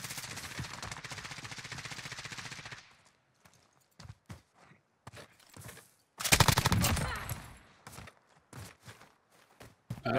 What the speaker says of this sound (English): He's shooting at somebody else.